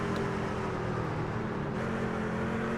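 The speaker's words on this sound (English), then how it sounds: "back bumper cam as you hear him downshifting" A pickup truck racing at Martinsville in the iRacing video game, its engine droning continuously and fairly loud as it downshifts, with a steady mechanical hum throughout.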